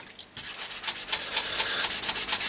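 Fine 360-grit sandpaper rubbed back and forth along a fishing rod handle, a steady run of rhythmic, close scratchy strokes that start after a brief pause and continue evenly with no talking.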